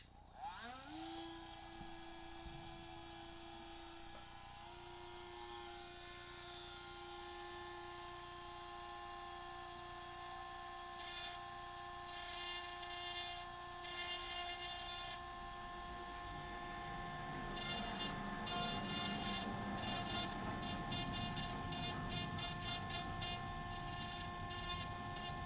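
A small rotary tool grinds through the layered motherboard of an iPhone 6 toward the processor, giving a steady high whine with a fluctuating pitch and bursts of rougher grinding as it cuts.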